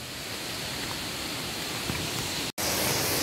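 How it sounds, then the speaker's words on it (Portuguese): Water rushes steadily at the Cipó waterfall, a dense continuous roar heard nearby, broken only by a brief dropout near the end. "Você já vai ouvindo aí o barulho das águas."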